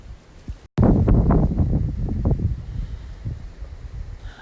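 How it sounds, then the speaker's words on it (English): Hurricane Dorian wind gusts buffet the microphone in a loud rushing surge after a brief dropout, then ease into a steadier, fainter blowing roar. "you can almost feel the wind gusts before they actually start"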